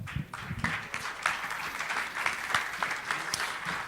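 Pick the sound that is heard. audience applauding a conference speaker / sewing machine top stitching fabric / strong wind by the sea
audience applauding a conference speaker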